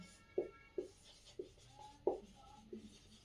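Chalk or marker strokes on a classroom board, five or six distinct scratchy taps spaced roughly half a second apart, close and moderately quiet with no speech over them.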